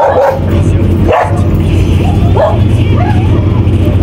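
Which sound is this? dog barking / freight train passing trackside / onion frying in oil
dog barking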